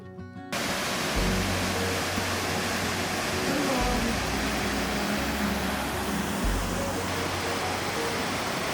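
Caribou Falls on Lake Superior's North Shore pours in a steady, full broadband rush of falling water that holds even from start to end, with a faint low hum beneath it and no voices.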